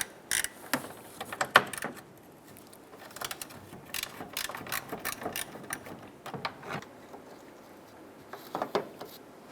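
Ratchet working a 10mm bolt loose deep inside the front end of a Ram 1500 pickup, a run of quick close clicks in short bursts with pauses between, no voices.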